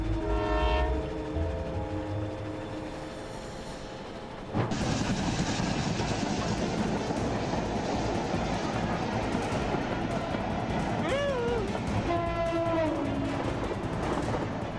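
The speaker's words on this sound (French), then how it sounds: "c'est simplement un train chasse-neige au Canada en train de faire un travail incroyable" Snowplow train clearing snow from the tracks in Canada, a loud steady rush of plowed snow and rolling rail noise with horn blasts sounding near the start and again toward the end.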